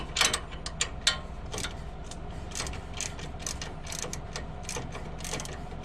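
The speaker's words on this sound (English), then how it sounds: "I grabbed the ratchet with the 19mm end on it," A hand ratchet fitted with a 19mm socket clicks rapidly and steadily while running a nut down the threads of a strut on a 2003 Toyota Tacoma. The pawl snaps close and crisp, with no voices.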